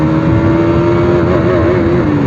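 A KTM Duke 200 BS6 motorcycle accelerating in third gear, a loud, close, steady engine whine rising gently in pitch under heavy wind roar, with no voices.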